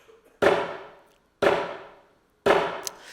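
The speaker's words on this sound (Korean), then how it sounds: "자, 세 번째 망치 소리인데 세게 칠까 약하게 칠까 고민되죠" Three sharp hammer blows sound about a second apart during a church service, each ringing out and fading, loud and close, with no voices.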